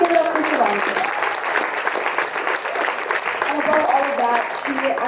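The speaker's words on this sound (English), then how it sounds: "let's just give one more round of applause for Sivani" An audience claps steadily for a performer at a Carnatic vocal concert by the Shivaranjani School of Music in Milwaukee. The dense, even applause holds throughout.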